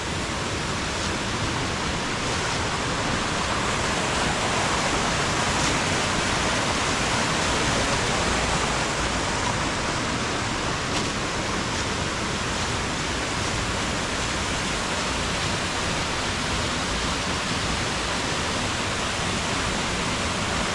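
Bojanca waterfall on Bohor, a steady, dense roar of falling water heard close up, unbroken and constant throughout with no voices.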